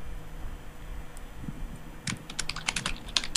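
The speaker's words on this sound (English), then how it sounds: "And then Zuru is typing." A computer keyboard clatters in a quick burst of typing that begins partway through, with close, crisp key presses over a low room hum.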